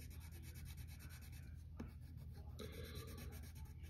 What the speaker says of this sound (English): use the side of your pencil, not the front, not the tip, the side.